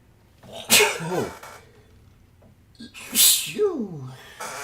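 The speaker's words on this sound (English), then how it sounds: "There's my morning sneeze." A person sneezes loudly twice, one burst early on and a second about two seconds later, each with a sharp breathy release and a short voiced tail, alone in a quiet room.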